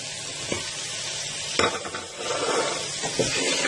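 Mutton korma for haleem sizzles and fries in a pan, a steady hiss with occasional clinks and scrapes of a spoon stirring against the metal, close and continuous with no talking.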